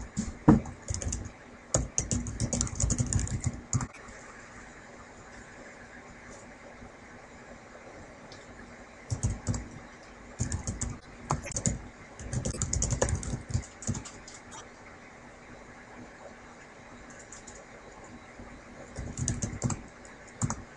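Computer keyboard typing while entering network configuration commands, heard as several clustered bursts of close, crisp key clatter separated by quiet pauses, with no talking.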